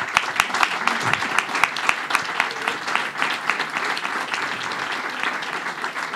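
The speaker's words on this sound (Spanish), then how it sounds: "Un fuerte aplauso." Audience applause at a talk on tourism fills the room, dense continuous clapping with a few sharper nearby claps standing out early, loud and sustained for several seconds.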